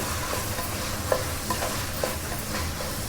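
Veg biryani masala is mixed with mint leaves in a pot, giving a close, steady sizzle with a few distinct scrapes and knocks of the spoon, and nobody speaking.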